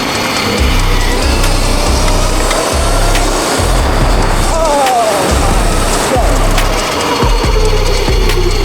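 A high-kV 82,000 W motor on a homemade e-bike spins its wheel hard, a loud continuous mechanical whir and rattle that rises and falls in pitch over several seconds, up close.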